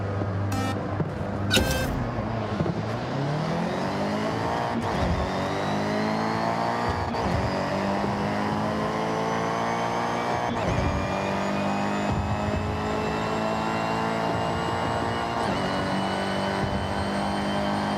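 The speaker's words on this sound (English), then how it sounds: "Get your revs up, and on green, release the handbrake and go." Race car engine in the Forza Horizon racing game revving hard at a launch-control start, a loud sustained roar with rising, sweeping harmonics as it accelerates, with brief gear-change dips and some tire noise throughout.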